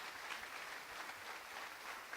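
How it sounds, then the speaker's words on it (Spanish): A church congregation claps during a sermon, giving a continuous, even round of applause that sounds distant and fairly faint. "¿Quién puede darle un aplauso al Señor por eso?"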